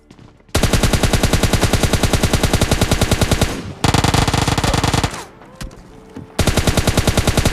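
Rapid automatic gunfire from the PUBG Mobile Lite video game rattles loudly in long bursts, with a brief pause in the middle and another burst starting at the end.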